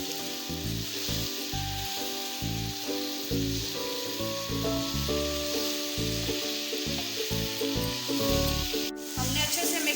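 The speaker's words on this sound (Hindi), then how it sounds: "अब हम इसको अच्छे से तड़के के साथ मिक्स करेंगे" Pumpkin pieces get stirred into a hot tempering with a steady hiss of sizzling oil. Loud tonal music plays over the whole stretch, and a sharp click comes near the end.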